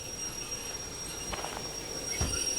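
A train in the Derail Valley simulator slows under a full handbrake, giving a steady rolling rumble with faint wheel squeal that builds toward the end, with a few louder clunks near the close.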